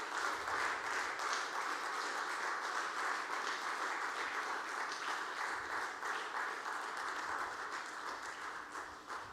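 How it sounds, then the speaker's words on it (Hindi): Party workers applauding the Prime Minister, a dense, sustained roar of many hands clapping at once, even and unbroken for several seconds before easing slightly at the end. "तालियों के माध्यम से माननीय प्रधानमंत्री जी का।"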